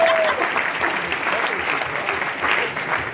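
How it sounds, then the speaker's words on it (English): A seminar audience in Brisbane gives a dense, continuous round of applause for a woman named Gillian, crackling clapping at even loudness throughout with a faint voice underneath. "Can we give Gillian a round of applause?"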